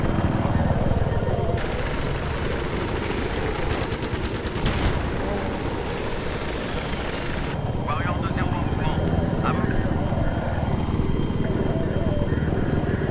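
A helicopter in Battlefield 3 roars steadily through dense gunfire and machine-gun bursts. Loud and continuous, it stays underneath constant battle noise.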